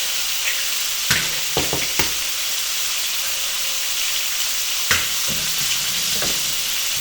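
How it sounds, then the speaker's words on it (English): Food frying in a pan for a bacon and cheese quiche is stirred, loud continuous sizzling with a few scraping utensil strokes in two brief clusters, close up with no voices. "I'm going to give this a quick stir."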